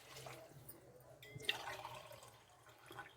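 Water poured from a glass onto soaked rice in a cooking pot while making veg palav, a faint, soft splashing and trickling that lasts a few seconds against a quiet kitchen background.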